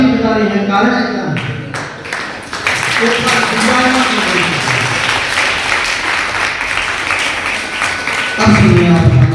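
Students in a school mathematics quiz clap as a group, a sustained burst of applause that mixes with loud voices and commentary, fading briefly near the start and swelling again toward the end.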